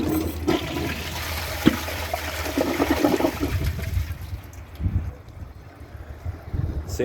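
An AquaSource Henshaw toilet flushes in a single continuous rush of water, loud and close, roaring for several seconds and then draining away into a gurgling, fading refill.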